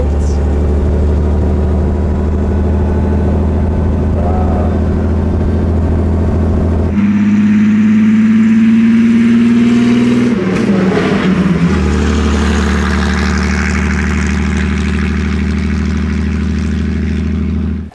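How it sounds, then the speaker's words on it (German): A 1928 Mercedes SSK with a supercharged 7.1 litre engine drives close by. Its loud deep drone shifts pitch midway as it accelerates, then settles into a steady roar. "das war jetzt eine Fahrt mit Mercedes SSK"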